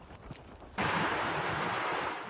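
Strong gusts of wind and heavy rain sweep across a port during a storm, rising suddenly into a loud, continuous roaring wash that holds steady to the end.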